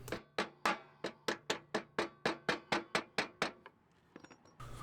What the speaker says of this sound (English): I'm going to use a little scrap piece of wood and just kind of tap on it with a hammer